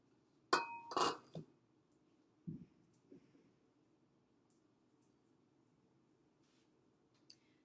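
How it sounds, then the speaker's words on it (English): Bread mixture spooned into a pre-greased loaf pan: a quick cluster of light utensil clinks and soft taps near the start, one dull thud, then near silence. "This is a pre-greased loaf pan. We're just going to spoon in our mixture."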